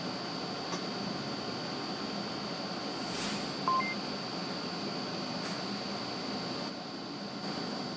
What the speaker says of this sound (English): as you hear the countdown timer coming down